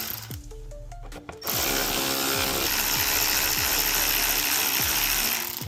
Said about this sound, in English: now do you understand why we're using an electric ratchet?